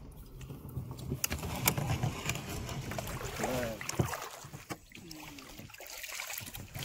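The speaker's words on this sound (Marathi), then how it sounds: "चला आता बोट मध्ये बसलेलो आहे आम्ही आणि" A boat moves on the Narmada river with soft water splashing and lapping close by, faint and uneven, while people talk and shift about aboard.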